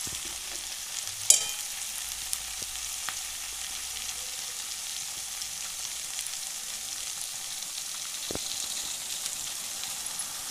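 Chinese noodles stir-frying in a pan with red chili sauce give a soft, steady sizzle with a few light clinks and scrapes, low and constant throughout.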